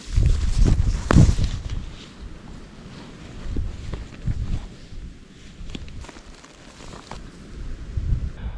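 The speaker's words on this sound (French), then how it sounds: "Il y a un vent terrible." Strong wind buffets the microphone in heavy rumbling gusts, swelling and easing repeatedly, with faint rustling and a few knocks.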